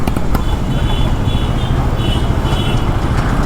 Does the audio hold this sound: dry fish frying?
no